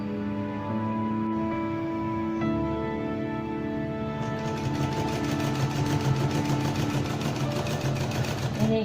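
A sewing machine stitches continuously with a steady mechanical hum and fast rhythmic whirr that grows busier partway through, close and fairly loud.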